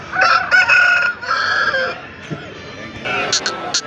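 Chickens and roosters at a busy hen market, with a rooster crowing and hens clucking in close, loud bursts, while people talk in the background.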